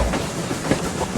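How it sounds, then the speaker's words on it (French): A steam train runs along rails with a dense, steady rumble and rhythmic clatter of wheels, loud and close, no voices heard. "Dans les trains filant à toute vapeur,"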